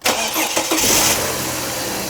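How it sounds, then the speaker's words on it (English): A Ford Barra-powered wagon's engine cranks and catches, then settles into a steady idle, loud and close. "We're just gonna give the Barra a quick start to make sure that everything works"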